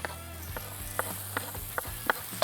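Bacon strips frying in a hot Dutch oven set on a grill give a steady crackling sizzle, broken by a series of sharp pops and spits spaced about half a second apart, close and alone with no talking.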